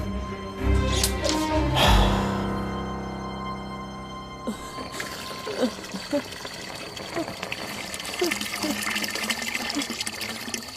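Water gushes and splashes loudly for the first few seconds, then stops, leaving a quieter scene with scattered knocks, trickles and faint voices in the background.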